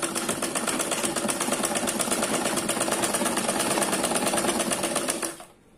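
Sewing machine running after its upper thread tension was adjusted, a close, steady buzzing whir with fast even needle pulses for about five seconds, then stopping abruptly, no talk.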